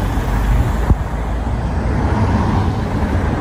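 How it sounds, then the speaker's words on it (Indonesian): Steady road traffic with many cars passing near a forested village area with construction, a continuous loud broadband roar with no speech. "Oh, banyak mobil juga di sini."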